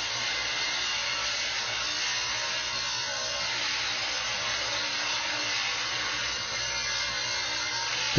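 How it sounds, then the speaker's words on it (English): A power grinder smooths the weld bead between passes on an oil pipeline under construction in the Arctic, a loud continuous whine-and-hiss holding steady throughout without pause. "The grinding smooths out the weld bead and is performed between weld passes."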